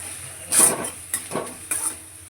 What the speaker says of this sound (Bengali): এবার সব মশলাকে একসাথে কষিয়ে নেব